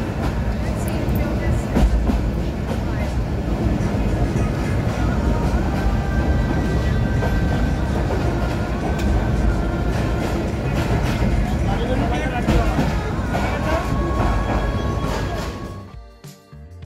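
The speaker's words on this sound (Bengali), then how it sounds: "ট্রেনটি এখন ভৈরব ব্রিজের উপর দিয়ে যাচ্ছে।" A passenger train rumbles across the Bhairab bridge in Bangladesh, a loud, continuous roar with rattling wheels heard from on board, fading out abruptly near the end.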